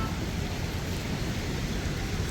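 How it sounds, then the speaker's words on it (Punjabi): Steady rain falls over Ropar town in Punjab, a dense, even hiss of water that fills the air without pause, fairly loud and close. "ਮੀਂਹ ਲਗਾਤਾਰ ਸਵੇਰ ਦੀ ਪੈ ਰਿਹਾ"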